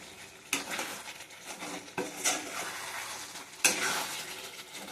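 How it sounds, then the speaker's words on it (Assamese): Meat cooks in a pan with a steady low sizzle while a utensil stirs it, giving three or four distinct scraping knocks against the pan over the crackle, close and fairly quiet, with no talking. "মই মাংস ৰান্ধি আছোঁ"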